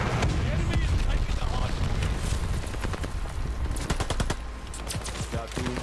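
Bursts of automatic gunfire from a multiplayer shooter video game, sharp rapid cracks spread across the stretch, some close and loud, others sparser, with players talking over the shooting.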